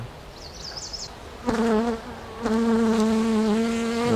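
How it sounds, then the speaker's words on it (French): Close, loud buzzing of a honeybee caught against a microphone at an open beehive, a steady droning tone that starts abruptly and wavers in pitch as it continues, with faint hive sounds beforehand. "Vous ne devez rien entendre parce qu'une abeille de pris dans le micro"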